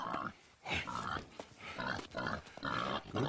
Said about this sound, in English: Good pig.